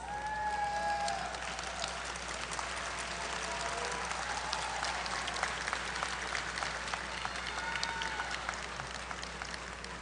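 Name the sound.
graduates applauding their faculty at commencement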